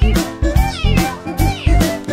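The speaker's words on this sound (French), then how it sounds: "Le petit chat miaule si fort." Kitten meows within a children's song, four loud, close, drawn-out mews in quick succession, each with a bright wavering pitch, set over the song's music.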